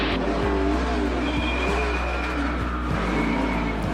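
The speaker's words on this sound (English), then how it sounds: "Cars colliding on the back straightaway" NASCAR stock cars collide and skid on the back straightaway during a multi-car crash, with loud roaring engines, screeching tire squeals and a dense racing rumble running steadily throughout.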